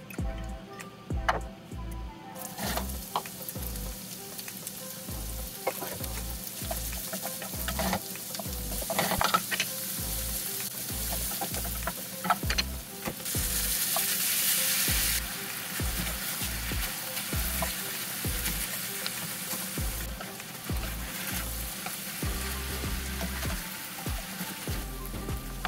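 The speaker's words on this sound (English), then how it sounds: "we're gonna add in the beef and kind of let that brown" Ground beef browning with onions and garlic in olive oil in a skillet for moussaka, sizzling steadily throughout with repeated scraping and stirring knocks as the meat is broken up.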